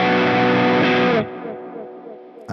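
An electric guitar played through a Flashback Mini delay pedal rings out a loud, sustained distorted chord that cuts off and leaves soft repeating echoes trailing away, followed by a sharp new attack at the end.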